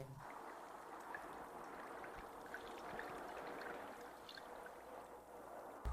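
Water poured over weighted-down eggplants in a container for cold pickling: a steady, soft, continuous gush and trickle of liquid throughout, close and fairly quiet, with no talking.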